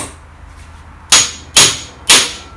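Hammer blows on an impact screwdriver set on a seized screw during a Mercedes alternator repair: three sharp, loud metallic strikes about half a second apart, close and alone.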